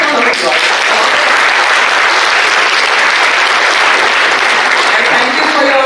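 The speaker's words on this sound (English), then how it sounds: "we can hear a large round of applause." An audience at a corporate event gives a large, sustained round of applause, dense clapping filling the room evenly and loudly without pause.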